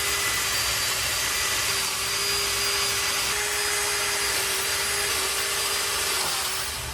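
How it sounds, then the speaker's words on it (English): Power drill boring 3/8 inch holes in wood for carriage bolts during a garage hose reel build, a loud steady whining drone with a faint tonal hum that runs unbroken throughout, close by, with no voices. "all we need to drill is 3/8 holes in our wood here"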